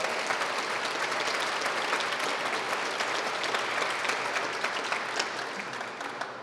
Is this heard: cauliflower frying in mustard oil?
no